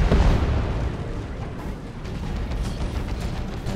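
Missile launcher sentinels fire in the Dawn of War II: Retribution strategy game, an Imperial Guard versus Chaos battle, producing a dense, continuous rumble of explosions and booms. The blasts are heaviest at the start and then settle into a steady battlefield roar.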